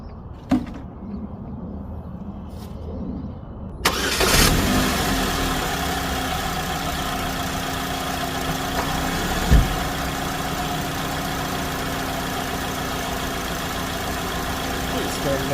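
A Chevy Cobalt with 339,428 miles, just fitted with a new thermostat, cranks after a few quiet seconds and catches, then settles into a steady, even idle that hums on to the end.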